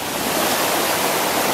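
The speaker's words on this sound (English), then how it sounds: "Water's really loud." Loud rushing waterfall heard up close at a scenic trailside spot, a steady broadband roar of crashing water filling the whole clip with no voices.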